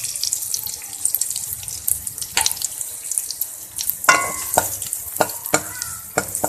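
Chopped garlic sizzles in hot butter in a pan, a close, steady frying hiss with scattered scraping and clinking as it is stirred with a spoon.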